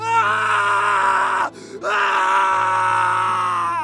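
A man screams in anguish in a Hindi audio drama, a loud, sustained, harmonic cry that breaks briefly in the middle and then resumes just as strongly over a low musical drone.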